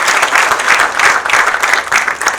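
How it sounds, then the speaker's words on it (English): Audience applause at a hospital opening ceremony, a dense, loud, sustained wash of many hands clapping together, steady from start to finish and close to the microphone. "Let's give God a very big hand clap for this facility."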